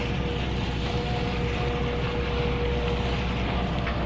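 A sailboat's engine idles while the boat waits for a drawbridge to open, giving a steady low, droning rumble with a faint even hum, constant and unbroken with no voices.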